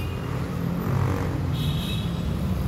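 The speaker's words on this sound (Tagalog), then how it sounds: "ang daming mga malalaking sasakyan" Heavy road traffic rumbles steadily, with many large vehicles streaming past on a busy street, a continuous loud drone of engines and tires with no clear gaps.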